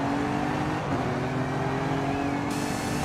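A supercharged 3.6-liter Pentastar V6 drones steadily in Forza Horizon 5, a loud sustained engine hum with supercharger whine held at a fairly constant pitch throughout.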